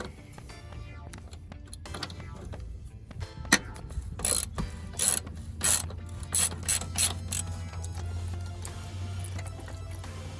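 A ratchet clicks in quick bursts while loosening a 3/4 bolt on a canister oil filter housing of a junkyard engine, with sharp repeated ratcheting strokes up close and no talk.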